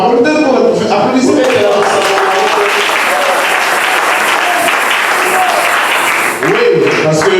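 A large audience bursts into sustained, loud applause, dense steady clapping filling the room for several seconds with crowd voices mixed in.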